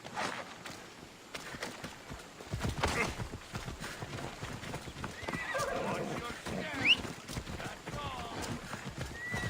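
A horse in Assassin's Creed Odyssey neighing amid steady clip-clopping hooves, with people talking over it.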